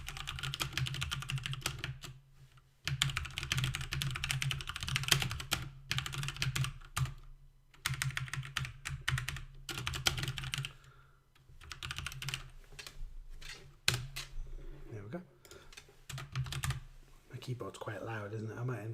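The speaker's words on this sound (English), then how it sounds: "Keyboard's quite loud, isn't it? I might invest. So this is this has Cherry MX Blues." Rapid clicky typing on a mechanical keyboard with Cherry MX Blue switches, loud bursts of keystrokes close to the microphone broken by short pauses, with a voice speaking underneath at times.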